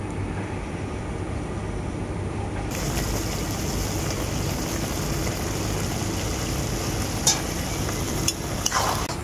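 Small shrimp and amaranth greens in a simmering curry are stirred after mixed spices go in, a continuous close bubbling hiss with a few scraping clinks of the spoon near the end.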